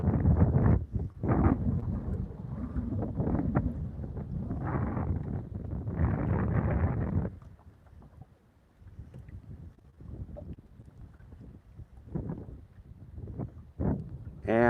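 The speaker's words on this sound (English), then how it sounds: "I'm just getting blown around like in the wind like crazy." Strong wind gusts roar across a lake while fishing for largemouth bass, loud buffeting bursts against the microphone that ease off halfway and then return in weaker gusts.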